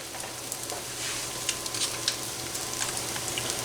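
Onions sizzling in a pan as they start to brown, a steady close crackle and hiss with small pops, no talking.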